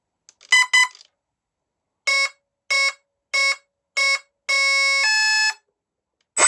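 An electronic speed controller on an X-UAV SkySurfer (Bixler clone) model aircraft emits sharp, loud electronic beeps: a quick pair, then four evenly spaced tones and a longer two-part tone, each separated by silence.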